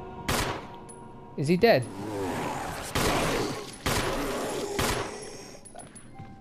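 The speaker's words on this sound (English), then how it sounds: "You might want to shoot him." Gunshots fired at a zombie in the video game Resident Evil HD: several loud, sharp blasts spaced about a second apart, with someone speaking briefly between the first shots.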